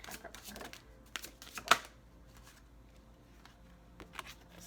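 Tarot cards shuffled by hand, a soft papery riffling that comes in short bursts with one sharper snap partway through, fairly quiet and close, with no talking.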